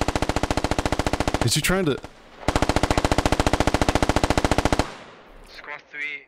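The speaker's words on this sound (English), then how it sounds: "Maybe he's trying to shoot at the SPG techie and he's missing." Sustained automatic gunfire in the video game Squad, two long rapid bursts of evenly spaced shots with a short pause between, followed by a brief burst of speech; a voice also talks over the firing near the middle.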